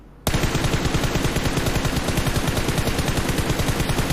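Video game gunfire from an automatic weapon, loud and continuous, with rapid evenly spaced shots starting abruptly and filling the clip with no talking.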